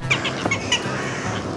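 Squawking duck calls from a video game with an alien theme, several short bird-like honks over a busy, noisy game background with no clear talk.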